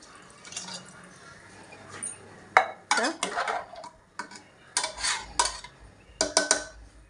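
Metal lid fitted onto a pressure cooker holding chickpeas and water, a series of close clanks and scraping knocks in uneven bursts over a quiet kitchen background.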